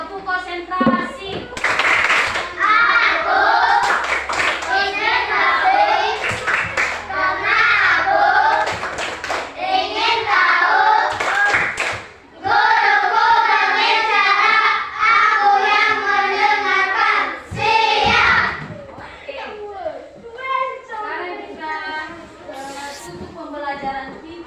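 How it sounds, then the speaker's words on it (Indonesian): Classroom of young students clapping the 'tepuk konsentrasi' rhythm in patterned bursts, with children chanting and a teacher's voice over the claps throughout. "Tepuk konsentrasi."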